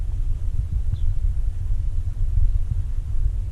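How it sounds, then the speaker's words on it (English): Distant thunder rolling over open rural land, a low continuous rumble that swells and fades without sharp cracks, heard alone at a far distance. "And I just heard some thunder."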